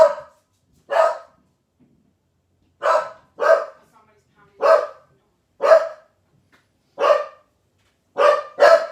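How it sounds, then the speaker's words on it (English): A pet dog barks nearby in sharp single and paired barks, about ten in all, separated by short quiet gaps, loud and close. "that was my dog"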